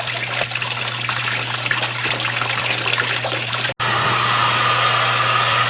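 Water sprays hard onto disc brake parts of an '86 Ford diesel Ranger 4x4, a loud, continuous hissing rush that cuts out for an instant and then resumes.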